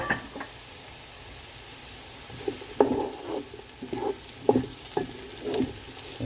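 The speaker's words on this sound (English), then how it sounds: "Let it saute down for about 2 minutes" Garlic sautéing in a pan for pot pie filling, a soft continuous sizzle broken by a spoon scraping and stirring in irregular knocks, close by.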